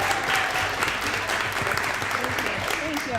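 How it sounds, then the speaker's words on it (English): A crowd claps steadily and densely for a girls' volleyball coach, a continuous wash of applause at moderate loudness with faint voices beneath. "we need to clap it up for Coach Corley right now."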